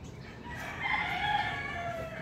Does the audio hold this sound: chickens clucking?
yes